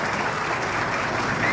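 A crowd at a political rally in La Romana applauds a candidate, a dense, steady wash of clapping that holds at an even level throughout with no voices standing out.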